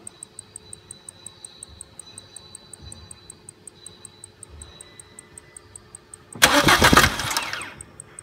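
A car engine is cranked by the starter during a timing-chain check, a short loud churning burst after a long quiet stretch filled with regular faint ticking.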